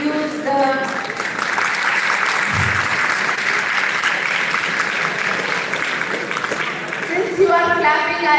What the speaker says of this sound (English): Since you are clapping, I assume you are understanding what I am saying.